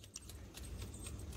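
A vehicle key bunch jangling briefly, a few quiet metallic clinks over low background rumble.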